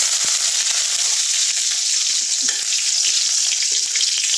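Onions and cumin seeds frying in hot oil, a loud, steady hissing sizzle with scattered crackles and pops, close up and unbroken.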